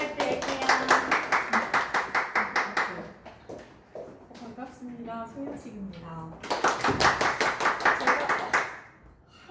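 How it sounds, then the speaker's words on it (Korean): A small group at an evening home meeting in Songdo claps in a quick, even rhythm, then a speaker talks briefly, and the clapping resumes before fading out. "큰 박수 부탁드릴게요"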